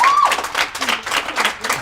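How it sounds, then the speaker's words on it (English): Teammates from a Kimberly girls soccer team give a round of applause at a varsity roundtable, a burst of many hands clapping near and steady with a whistle-like tone at the start. "If you girls can give a bigger round of applause to your teammates"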